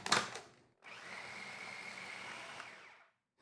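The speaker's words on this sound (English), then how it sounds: "I'm gonna grind a little bit longer." Food processor grinding walnut fig bar batter finer, a steady whirring motor run of about two and a half seconds following a brief earlier burst, fairly close with no talking.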